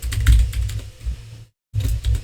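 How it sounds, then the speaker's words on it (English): Keys clatter in quick, uneven bursts on a computer keyboard during a C programming session, the clicks close and crisp, broken by a short silent pause before the typing resumes. "I'll be just typing"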